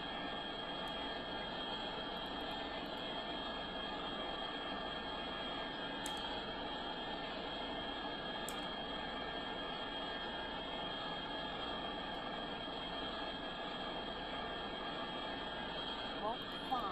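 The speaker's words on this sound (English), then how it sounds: "switch to scram jets" Scramjet engines on a spaceplane in the space flight simulator Orbiter 2016, a steady, unbroken roaring jet drone with a high whine layered on top, constant in level for the whole stretch with only faint clicks.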